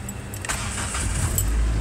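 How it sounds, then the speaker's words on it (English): A car engine being cranked and then catching, jump-started from a cordless drill battery: a short whirring starter crank that turns into a steady low engine running, close and loud, with no talk. "We're just gonna try and crank the car over."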